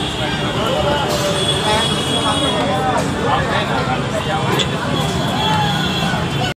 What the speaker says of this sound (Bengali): তো আমরা এখন মেট্রো স্টেশনে উঠে গেছি